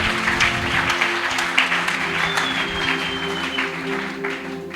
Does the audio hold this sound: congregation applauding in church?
yes